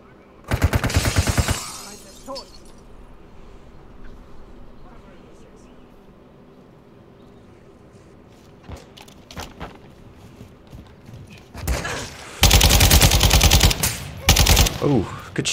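Rapid automatic gunfire from a video game bursts loud and close at the start, quiets into ambient game sound, then returns in heavy sustained bursts near the end.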